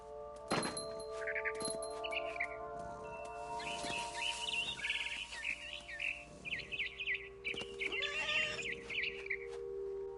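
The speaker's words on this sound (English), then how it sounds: "Then I heard chirping outside my window." A barn swallow twitters with bright chirps and trills in What Remains of Edith Finch, coming in bursts over a steady low hum with occasional thunks, and no voices.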